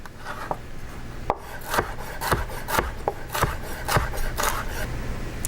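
A knife cuts a sweet red pepper into big chunks on a cutting board, giving about ten sharp, fairly evenly spaced chops with light scraping between them, close and clear without talking.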